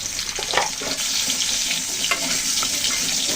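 Potatoes frying in oil with a little turmeric, a steady bright sizzle close by with a few soft stirring scrapes, no voices.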